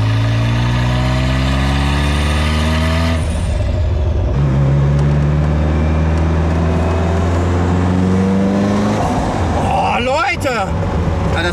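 A powerful Ferrari F40 twin-turbocharged engine revs up and accelerates loudly, its pitch climbing steadily, drops back, then climbs again with sharp whooshing turbo sounds near the end.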